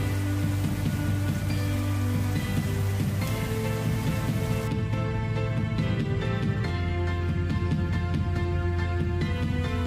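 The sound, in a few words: rain falling just after spraying chili plants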